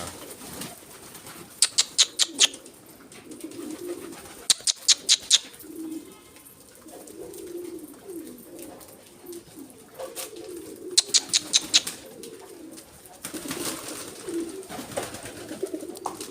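Pigeons at a loft give low cooing calls, broken by several bursts of sharp wing claps as birds take off, with soft rustling in between.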